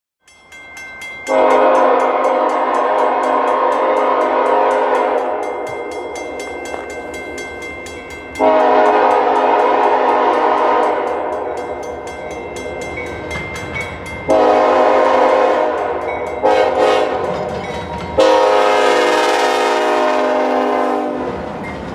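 Loud train horn blasts in long and short sounds over the rumble of an approaching Canadian Pacific freight train in upstate New York.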